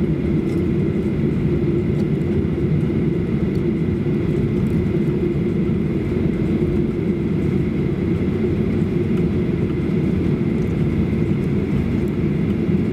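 Steady low engine roar and whir inside an ANA airliner cabin while it taxis to the gate, a constant broadband drone throughout with no talking.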